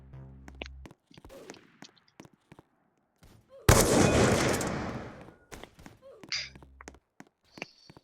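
Gunfire in a Roblox FPS game: a loud burst of shots erupts midway and decays over about a second, with scattered clicks and footstep-like taps before and after, while players talk around it.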